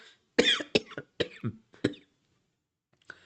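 A few sharp coughs in quick succession, close and fairly loud, then a brief pause and one faint final cough.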